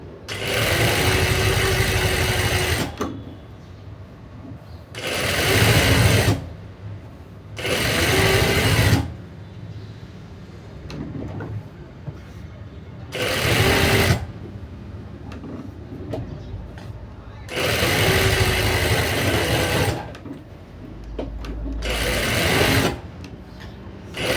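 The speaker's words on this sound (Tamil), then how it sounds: "லைனிங் வந்து அட்டாச் பண்ணி தைக்கும் போதே பார்த்து பொறுமையாக நம்ம தைக்கணும்" A sewing machine stitches the lining of a blouse in loud, whirring bursts of a few seconds each, separated by quieter pauses with faint handling noise, close to the listener and with no speech over it.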